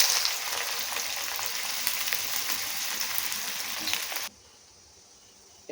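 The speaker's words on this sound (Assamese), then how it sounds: "এয়া মোৰ পিঁয়াজ ফ্ৰাই কৰা হৈ গ'ল" Small, finely chopped onions fry in a pan with a dense, steady sizzle for about four seconds, then the sizzle cuts off abruptly and only faint quiet remains.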